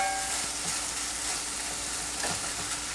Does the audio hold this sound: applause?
no